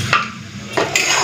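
Onions being stirred in a frying pan with ginger-garlic paste: two brief scraping sweeps of a spoon against the pan, separated by a quieter sizzle, close up with no voices.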